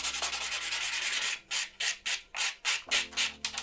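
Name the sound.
buffing block filing sculpted nail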